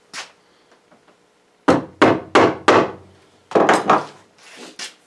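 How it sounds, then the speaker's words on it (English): Sharp hammer blows driving finish nails into wood, a few scattered taps, then a quick run of four strikes and a second burst of three or four, close and loud. "can you just imagine hammering a nail?"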